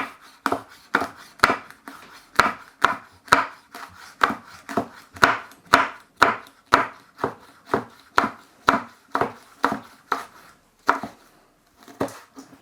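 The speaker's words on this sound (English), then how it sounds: "one fresh chilli, finely sliced." A knife finely slices a fresh chilli on a chopping board in a steady run of about twenty-five crisp, close taps. The cuts fall at an even pace and slow slightly near the end, with no talking.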